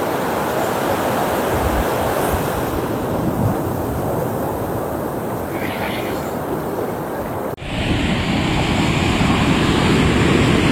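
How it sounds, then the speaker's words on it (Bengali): Surf breaks steadily on Gopalpur beach under strong wind buffeting the microphone, a dense continuous roar with a brief dip near the end before the rush of waves and wind resumes. "এখানে সমুদ্রের ধারে খুব হাওয়া এবং এখানে সমুদ্রের ঢেউও অনেক বেশি"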